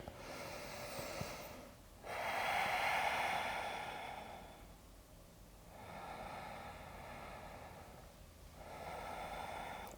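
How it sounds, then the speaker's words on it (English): Slow deep breaths during a yoga flow, a few long airy inhales and exhales with short pauses between, close and soft with no talking. "And breathe nice and deep."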